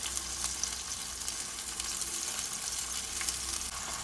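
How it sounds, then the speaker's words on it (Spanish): Onion and tomato sautéing in a frying pan with a pinch of salt, a steady close sizzle and crackle of hot oil running the whole time with no talking. "Ahora en el mismo sartén, como yo, vamos a agregar la cebolla y el jitomate. Vamos a sofreír."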